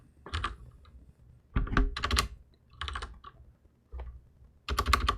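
Bursts of rapid clicking keystrokes on a computer keyboard come in short clusters separated by brief pauses, close and fairly quiet, with no voices.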